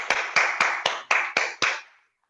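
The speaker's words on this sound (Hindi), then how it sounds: "सबसे पहले तैयारी के लिए एक जोरदार ताली हो जाए" Seven loud, evenly spaced hand claps ring out in a steady rhythm, each echoing briefly in a reverberant room before the next, during a Hindi orientation training session.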